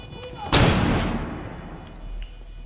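A flashbang grenade going off in the video game Rainbow Six Siege, one sudden loud bang with a long ringing, hissing tail that fades slowly over a few seconds, with no gunfire clearly apparent.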